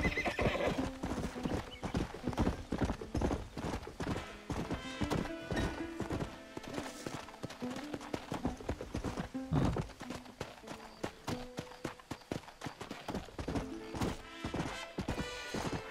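A horse in Red Dead Redemption, agitated and refusing to go on: steady close clip-clop of hooves with repeated whinnies and snorts, continuing for about sixteen seconds with no speech.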